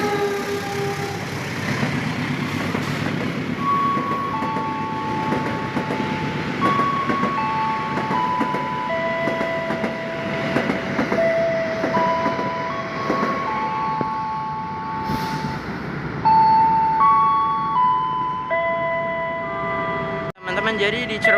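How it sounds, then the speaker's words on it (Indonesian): The Harina passenger train, running from Bandung to Surabaya Pasar Turi, passes straight through Cirebon station on track 3. A sustained rumble of rolling wagons is heard, with tonal horn-like notes and voices faintly in the background. "Di jalur 3 melintas langsung kereta api Harina dari stasiun Bandung, tujuan akhir stasiun Surabaya Pasar Turi"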